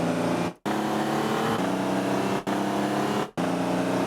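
Synthesized car driving sound effect with a steady engine drone that cuts out briefly three times as it shifts gear, the pitch jumping back after each break; close and loud with no voices.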